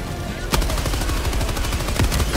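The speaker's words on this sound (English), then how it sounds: "They're calling mortars on us." Explosive mortar strikes and bursts of gunfire in the co-op shooter Helldivers 2, a sharp blast near the half-second mark and another toward the end over a dense, continuous crackle of shots, with faint voices underneath.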